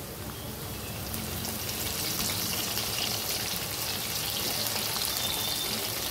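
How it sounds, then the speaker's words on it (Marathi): Aubergine sizzles in hot oil in a home kitchen, a steady dense hiss and crackle that holds throughout, close and fairly loud with no voices. "नुसतं तेलात फ्राय करून घ्यायचं ना आपल्याला"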